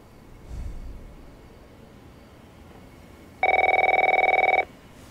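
An electronic telephone ring in The Last of Us Part I, a single buzzing trill lasting about a second, clear and fairly loud over a quiet background with a faint thud before it.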